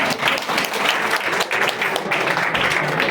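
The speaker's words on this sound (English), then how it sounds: "let us give Mark a round of applause." A room full of people gives Mark a round of applause, producing a dense, loud, continuous wash of clapping that holds steady throughout.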